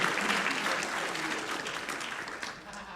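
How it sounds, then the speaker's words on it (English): A crowd claps in sustained, dense applause, steady and fairly loud for the whole stretch, with a slight fade toward the end. "Give him a round of applause."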